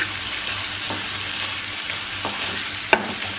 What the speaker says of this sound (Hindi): तो अब इसको मिक्स कर देते हैं हम।